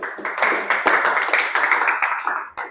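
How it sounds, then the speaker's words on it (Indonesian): Students in a classroom clap their hands together after a group presentation in a craft lesson, a dense burst of close, lively applause lasting a few seconds before tapering off. "Silakan tepuk tangan."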